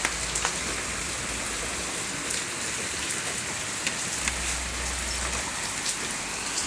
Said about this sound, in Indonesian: Hujan-hujan teman-teman ini.